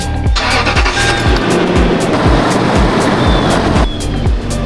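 A Lexus GX470 SUV engine starts and runs loudly with a steady, rough idle and a rhythmic low thumping, continuous throughout with no talking.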